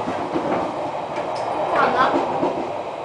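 An Odakyu Romancecar MSE train rumbles steadily with metallic rattling and a brief squeal in the middle, heard up close at the coupling between cars, with some background voices.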